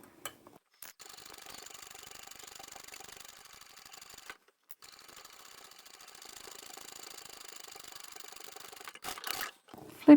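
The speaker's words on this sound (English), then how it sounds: "And then I'll sew all the way down." A sewing machine stitches down a tea towel tote seam, its fast rattling whirr running in two long stretches with a short pause between, then ending in a few louder handling knocks.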